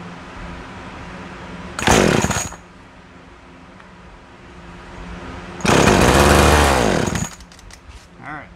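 Small gas chainsaw with its choke pulled closed, firing up in two loud bursts of engine roar, a short one then a longer revving run, separated by a quiet idle-free gap.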